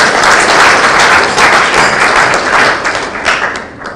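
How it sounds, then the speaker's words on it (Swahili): A rally crowd breaks into loud, dense applause, continuous clapping and cheering that fills the whole stretch and eases slightly toward the end, with no speech. "Haya, mupige makofi."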